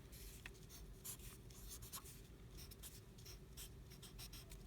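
A pen or pencil writes a fraction addition problem on paper, making faint, close scratchy strokes in short irregular bursts over a low background hum.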